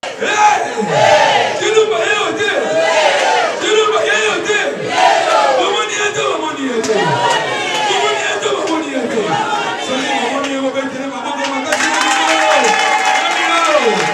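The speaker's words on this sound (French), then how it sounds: "Face à une foule enthousiaste" An enthusiastic crowd at a political rally for a party in the Democratic Republic of the Congo, loud and close, with sustained cheering, chanting and shouting voices that rise and fall throughout.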